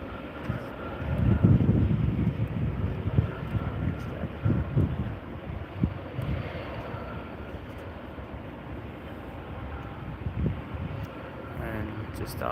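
A Pilatus PC-24 business jet arrives at an airport, its engine noise a broad, distant roar blended with wind buffeting the microphone and someone talking throughout.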